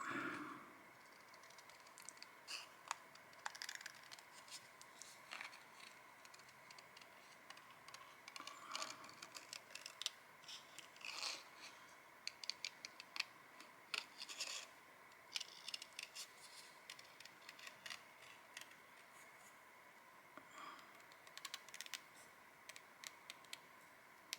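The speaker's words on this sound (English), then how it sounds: "Maybe I'll cut out this purple heart." Scissors cutting out a purple paper heart, faint, sharp snips in irregular clusters over quiet background, close by.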